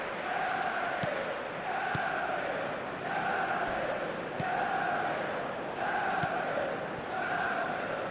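Football crowd in a soccer video game, a loud stadium roar with rhythmic chanting that swells and falls in regular bursts, heard continuously under commentary.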